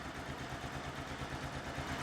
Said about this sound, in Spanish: vamos a dejar calentar la motocicleta 3 minuticos